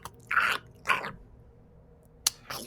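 A voice imitates a creature crunching on bones, with wet crunchy bites in two quick bursts, a quiet gap, then a sharp snap and a final crunch, close and fairly soft.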